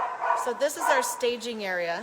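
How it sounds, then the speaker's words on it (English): A pet dog barks and yips repeatedly in short, close bursts, partly overlapping a person talking nearby indoors. "And you're gonna hear the dog"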